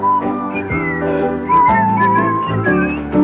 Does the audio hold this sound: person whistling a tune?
yes